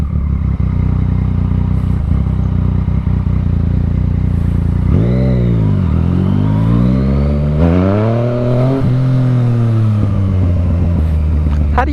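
Motorcycle engine on a wet road in the rain, revving up in sweeping rises and falls as the rider lifts a wheelie, loud and close over steady wind and road noise.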